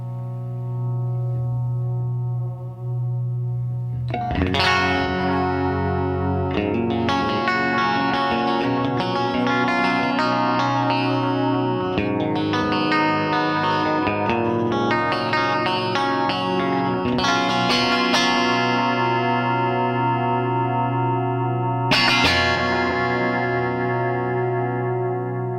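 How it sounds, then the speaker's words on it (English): Overdriven electric guitar plays chords and licks through a Seymour Duncan Deja Vu SFX-10 analog delay with modulation engaged, its repeats wavering with a chorus-like shimmer behind sustained, closely miked strums and a final ringing chord. "And now I'm going to introduce some modulation."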